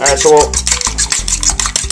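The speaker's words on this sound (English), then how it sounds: "we're going to go ahead and beat 2 eggs together real quick here" Two eggs are beaten together in a bowl, with quick rhythmic clicks and taps of the utensil against the bowl, close and fairly loud, while someone briefly talks at the start.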